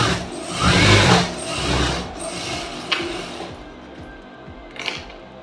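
A sewing machine stitches a blouse lining at a half-inch seam allowance, a steady mechanical whir that swells and fades over a few seconds, close and alone with faint clicks.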